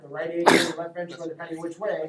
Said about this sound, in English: bless you